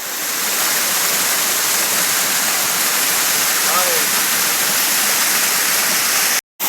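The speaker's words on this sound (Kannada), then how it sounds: "ಈ ಹೊಳೆಗೆ ಇನ್ನೊಂದು ಸಣ್ಣ ಹೊಳೆ ಬಂದು ಸೇರ್ತದೆ" A small stream flows steadily where it joins another, giving a continuous broadband rush of water that stays loud and close throughout, with a brief cut near the end.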